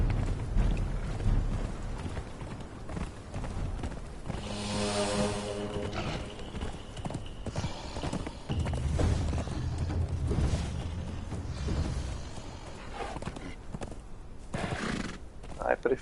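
Horse in the Conan Exiles game on the Isle of Siptah neighing loudly, with whinnies and steady clip-clop hoofbeats under ongoing talk and game sounds.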